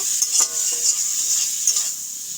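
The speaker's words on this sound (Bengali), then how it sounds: "দিয়ে ভালো করে এটাকে ভেজে নেব" Vegetables with salt and turmeric frying for homemade chowmein, with a steady close sizzle and a few clinks of a utensil stirring in the pan.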